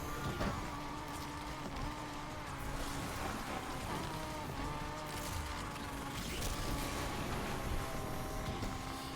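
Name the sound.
Mitsubishi Eclipse car driving in video game NFS Unbound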